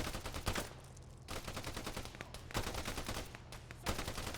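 Gunfire in the military shooter game Arma 3 crackles in dense, rapid bursts and volleys, with a few louder close shots standing out over the continuous firefight.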